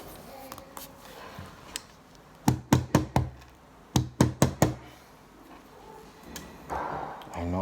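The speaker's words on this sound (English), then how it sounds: "some people don't like the knocking on the table" Knocking on a tabletop while tying the knot of a turquoise men's bracelet: two crisp bursts of sharp, close raps, about five, then four after a short pause, over quiet room noise.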